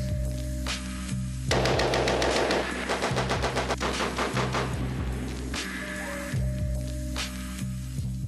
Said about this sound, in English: War I, the machine gun.